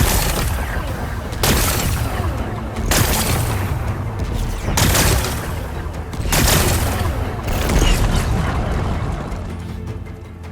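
Explosions pound through Horizon Forbidden West in a repeating series, five or six heavy booms roughly every one and a half seconds, each loud and rumbling with crackling debris trailing between them.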